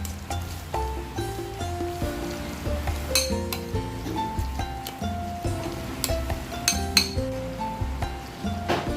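A spoon mixes tuna filling with salt and pepper in a bowl, with scattered clinks and scrapes against the bowl set close over soft background music.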